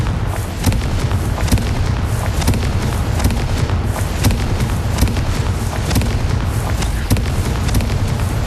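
Blasting spell explosions in the Hogwarts Legacy video game, a dense, continuous roar of booms and bursts with repeated sharp cracks layered over a heavy low rumble, loud throughout.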